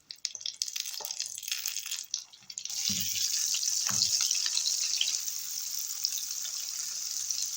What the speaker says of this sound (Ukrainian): Робимо середній вогонь і смажимо з обох сторін.